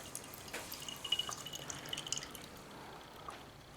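Liquid draining from a John Deere 130 lawn tractor into a cup, a soft steady dripping and trickling with faint splashes, fairly quiet and close, no talking.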